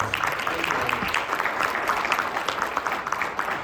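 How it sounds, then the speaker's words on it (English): An audience at an LGBTQ+ sports gathering gives sustained applause, a dense, even patter of many hands clapping, with a brief low voice murmuring near the start. "Let's give him a big, huge round of applause."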